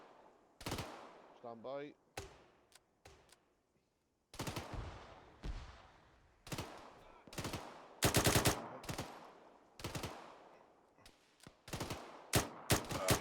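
Rapid rifle and machine-gun fire in Arma 3 crackles in repeated sharp bursts, some near and loud, others quieter, spread across the moment with a short spoken radio call between volleys.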